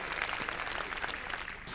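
Audience applause at a KVN Higher League quarterfinal comedy show, a steady broadband clatter of clapping from a large crowd filling the short stretch at even loudness.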